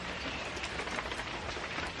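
Steady rain falls on a quiet street in Japan, a dense, even hiss of drops pattering on surfaces throughout, with no voices.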